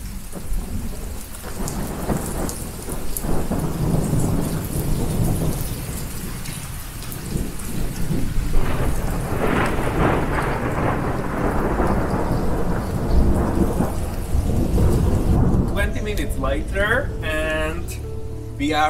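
Steady rain falls on a garden's surfaces while thunder rumbles low and long, with some faint voices now and then.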